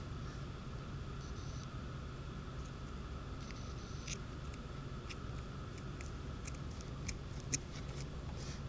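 Several sharp snipping clicks of scissors cutting yarn, close and fairly quiet, scattered over a steady low background hiss with no talking.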